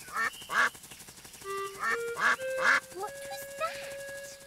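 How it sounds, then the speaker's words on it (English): Cartoon ducks in the My Friend Peppa Pig video game quack in a series of bright, close quacks that come in bursts, joined by sustained musical tones underneath. "Ducks! What are you doing here?"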